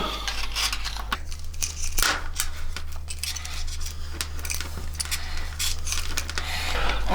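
Cable tie tail being snipped while fitting a Mustard Bikes tail tidy to a 2023 CFMOTO 450SR, a few sharp close clicks of the cutters over a steady low hum, with no talking.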